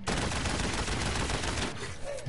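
Rapid video game gunfire crackles in dense bursts, a loud continuous volley of close shots that eases slightly toward the end.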